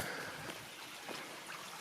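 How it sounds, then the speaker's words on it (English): A creek in Tennessee flows with a soft, continuous trickling rush, steady and quiet throughout with no voices over it. "Looks like I already found a creek."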